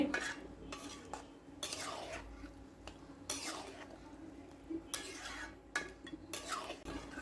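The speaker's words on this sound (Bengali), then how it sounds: "আর আমি নাড়াচাড়া করতে থাকবো যেন লেগে না যায়।" A spoon stirs boiled green banana and beef in a pot with repeated scraping strokes and metallic clinks at an uneven rhythm, close and fairly loud, with no voices.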